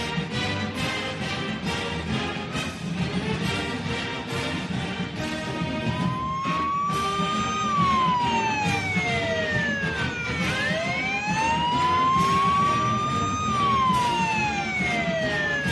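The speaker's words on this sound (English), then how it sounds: "Did you hear the sirens just a moment ago? They were going off." Sirens wail and sweep up and down in pitch, loud and continuous, with traffic rumble underneath.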